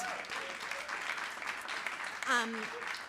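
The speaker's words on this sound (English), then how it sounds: "I am going to ask for a round of applause" Audience applause at a celebration of a ten-year storytelling anniversary, fairly soft clapping from a room of people, with a voice and a brief whistle or cheer rising over it partway through.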